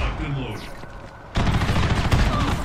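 Rapid gunfire bursts from a shooter video game, a sudden dense fusillade of overlapping shots starting midway and continuing loudly, with lighter game noise before it.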